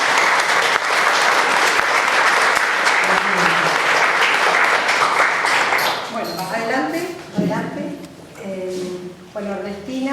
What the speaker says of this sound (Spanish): Así que un fuerte aplauso para ellas.